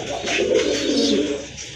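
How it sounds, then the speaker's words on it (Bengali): A pair of big pigeons, a male and a female, cooing close by in soft low burbling calls that swell and fade across a short stretch. "এটা হচ্ছে আপনার নট কবুতর আর নিচেরটা হচ্ছে আপনার মাদি কবুতর"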